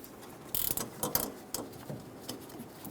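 Hose clamp being tightened on the fuel filler neck hose of a 2014-2018 Chevrolet Silverado 1500, giving a few quiet, close ratcheting clicks and mechanical ticks in short bursts with pauses between, no talking.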